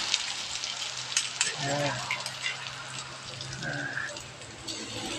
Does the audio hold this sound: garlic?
yes